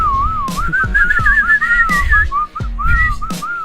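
A person whistles a wavering, warbling tune over a low rumbling background, imitating a groundhog's whistle, with a few sharp knocks.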